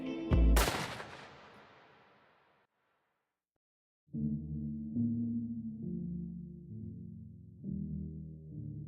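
Revolver gunshots in an Unreal Engine 5 video game: one loud, sharp blast with a long decaying tail, then silence, followed by music.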